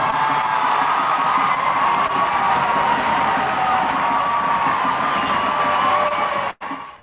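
A large crowd in New Orleans cheers Abby Wambach, a loud dense roar of shouts and whoops that holds steady for several seconds, then cuts off abruptly.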